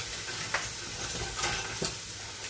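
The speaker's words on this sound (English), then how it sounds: "I'm just frying off the onions" Onions fry for risotto in a hot pan, a steady broadband sizzle with a few soft scrapes of stirring. It is close and continuous, and no one speaks.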